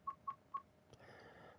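A mobile phone notification plays three short identical beeps in quick even succession, followed by a softer sustained tone, faint and nearby in a quiet room.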